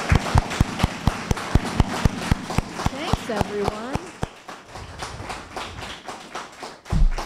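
An audience at a talk by a speaker breaks into clapping, beginning as a run of sharp, evenly spaced claps and swelling into brief applause that fades while a voice speaks briefly over it.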